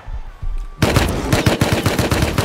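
An AK rifle fires in the survival game Rust: after a quiet moment, a loud, close burst of rapid automatic shots cracks out in a steady rhythm, with no talking.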